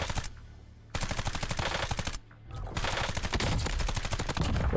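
Rapid SMG bursts in Warzone, several loud, tightly spaced volleys of automatic fire with short pauses between them, sounding close and dominant over the game's background.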